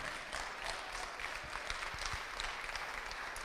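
Church congregation applauding during a sermon, a faint, distant wash of steady clapping from a crowd, with no speech over it.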